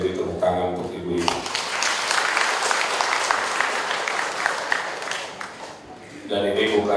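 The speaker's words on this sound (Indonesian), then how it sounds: "Jadi tepuk tangan untuk ibu-ibu." An audience breaks into applause for the women cleanliness volunteers at a community gathering, a steady clapping that rises after a brief spoken lead-in and fades as a voice returns at the end.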